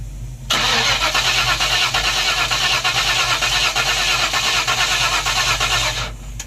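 A 1994 convertible car engine cranking over on the starter for about five and a half seconds, a loud, close, rhythmic churning that stops abruptly without the engine catching.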